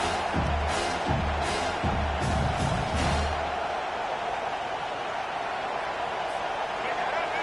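Football stadium crowd roaring as one sustained wash of noise, loud and steady from start to end, with a commentator's voice over it during the first few seconds.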